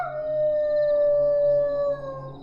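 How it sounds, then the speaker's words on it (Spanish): Dogs howl in one long, loud, sustained wavering tone that holds steady and then drops off near the end, with no voices present. "Cuando los perros aúllan."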